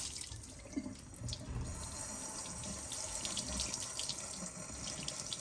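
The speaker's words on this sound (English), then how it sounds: "So I'm going to rinse this off." Tap water runs steadily into a sink, rinsing something off, a continuous close splashing with a few small knocks, with no talking.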